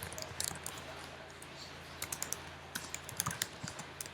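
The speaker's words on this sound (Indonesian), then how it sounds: "Kita coba ketikkan di sini." Quick clicks of keys on a computer keyboard while entering code syntax, scattered bursts of light tapping over a quiet room hum, picking up in pace toward the end.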